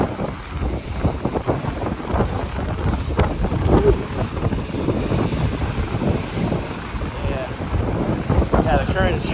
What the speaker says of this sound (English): you can see the waves are splashing.